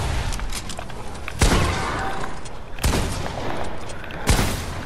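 Combat assault rifle from Fortnite firing in sustained rapid bursts, with three louder sharp reports standing out over a dense, continuous gunfire backdrop.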